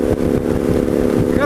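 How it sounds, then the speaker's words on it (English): Rat bike motorcycle engine droning steadily nearby on a road near Baker, Nevada, a low continuous rumble mixed with wind buffeting. "There goes John on the rat bike"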